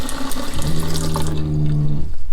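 Water runs into a hot water tank of an off-grid gravity-fed homestead water system, a continuous rushing flow with a steady tonal hum that cuts off abruptly near the end, with no speech.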